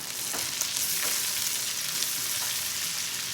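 Onions sizzling in a pan while homemade flour tortillas and pulled chicken are being made, a continuous close hiss with light pops and scrapes and no talk.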